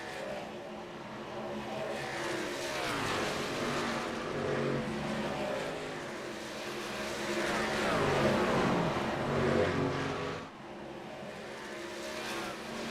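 Race cars in the field of a Western States Racing round at Atlanta roar past on the track, engines droning loudly in overlapping waves with tire noise, surging near and fading as groups pass one after another.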